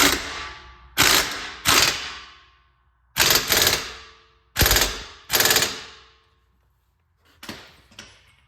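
An impact wrench hammers on a Nissan Versa rear wheel bearing in short, loud rattling bursts, mostly in pairs separated by pauses, with a fainter final pair at the end.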